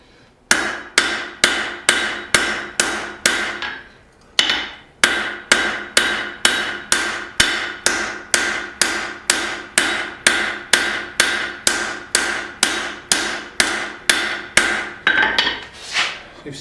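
A cross peen hammer forging a knife's integral bolster rings out in loud, evenly paced metallic strikes: a short run of about eight blows, a brief pause, then a long steady series of roughly two dozen more.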